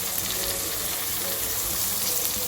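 Coconut rice ingredients frying in plenty of hot oil in a pan, a steady close sizzle that fills the whole moment with dense crackling and no voices.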